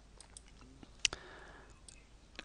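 A single sharp computer mouse click, close and crisp in a quiet room, made while inserting a column in a spreadsheet to build a chart.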